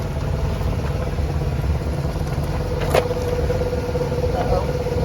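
A Blue Bird school bus engine idles steadily and close by, a constant low diesel rumble with a brief clank partway through, and no voices over it.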